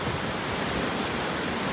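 A river in the Jibhi hills rushes past with crystal-clear water, a loud, dense, unbroken roar that fills the space evenly from start to finish with no other sounds above it.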